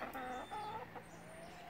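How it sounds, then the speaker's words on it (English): Hens from a rescued backyard flock cluck and murmur close by in a steady, busy chatter, with a few sharper calls standing out over the low continuous fowl noise. "Nosy chickens."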